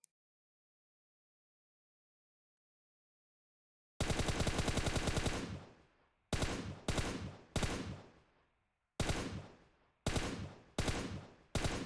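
Automatic gunfire from a PUBG Mobile match, heard after four seconds of silence as a long loud burst and then several shorter sharp bursts, close and loud with nothing else behind them.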